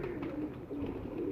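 A large French pigeon coos softly in a short, faint series of low, rolling calls close by, with no voices present.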